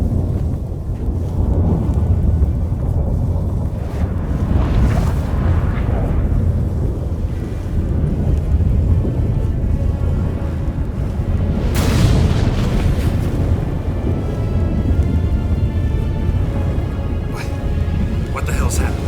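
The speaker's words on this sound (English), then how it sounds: "That a storm?" A storm rolls in during The Witcher 3, with a continuous loud rumble of wind and rain and several heavy thunder booms building over nearly twenty seconds. Voices speak beneath it.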